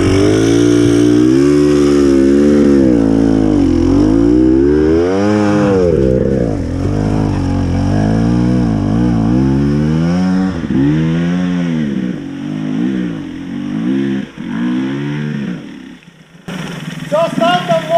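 A dirt bike engine at an enduro rodeo revs close and loud, its pitch rising and falling in repeated throttle blips. Near the end it drops away into quieter rumble before a brief burst returns.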